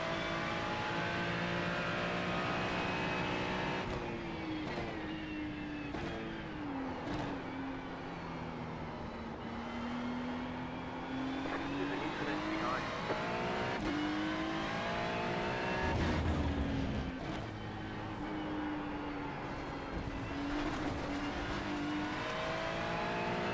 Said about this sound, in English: young Verstappen got a better exit on the last turn, giving me some action in the final five minutes of the race.